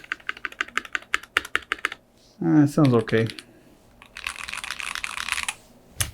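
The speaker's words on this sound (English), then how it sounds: "the backspace, the enter, I think the shift key, space bar sounds" Brisk clicky keystrokes on an ASUS ROG Azoth mechanical keyboard with modded switches, caps and stabilizers, tapping in a quick rhythm, then a person speaks briefly, followed by a rapid, dense burst of typing.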